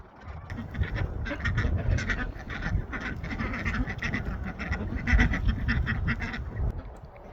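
A flock of ducks quacking steadily and loudly, many calls overlapping in a busy, continuous chorus close by.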